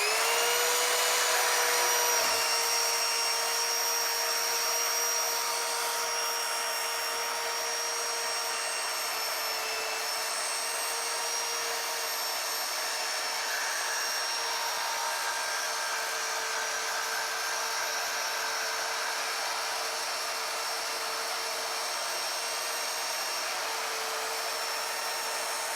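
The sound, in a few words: WEN portable band saw cutting square steel tubing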